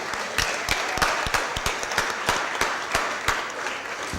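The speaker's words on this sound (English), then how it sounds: "let's give the two alderwomen for a day a big round of applause" Audience at a city Board of Aldermen meeting giving a round of applause, a brief burst of scattered, fairly close hand claps from a modest-sized room, with no talking over it.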